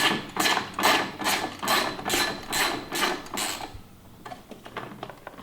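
A wrench loosening a 10 mm nut deep in a Ski-Doo Gen 5 Turbo snowmobile clutch gives about eight rhythmic ratcheting bursts up close, then a few softer, sparse clicks.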